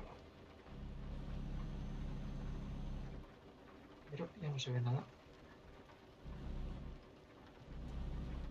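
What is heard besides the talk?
rain while driving at night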